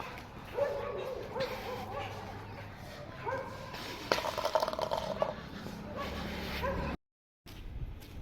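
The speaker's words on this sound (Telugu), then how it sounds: "ఇక్కడ కుక్కలు తప్ప ఏం లేవు." Dogs bark and yip intermittently in a quiet street, with a voice now and then and a brief moment of silence near the end.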